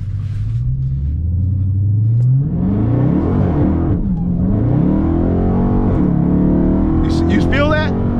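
A Dodge Hellcat Charger fitted with a Direct Connection stage kit roars close up as it accelerates, its engine note climbing and dropping through several quick gear shifts, with a voice talking over the rumble.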